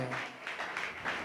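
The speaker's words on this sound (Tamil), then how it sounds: "நல்ல கைத்தட்டி ஆண்டவருக்கு நன்றி சொல்லுங்க." A church congregation claps in thanks to the Lord, a brief burst of several rhythmic clap waves, moderately loud and fairly close, with a voice briefly heard at the start.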